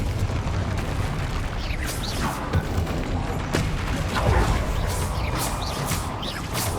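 Explosions from the Confringo spell in the video game Hogwarts Legacy burst and crackle through a dense run of game effects. The booms are moderately loud and repeat irregularly, with a voice talking at times.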